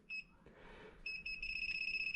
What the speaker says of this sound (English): it's not vibrating, it's just providing the voice alarm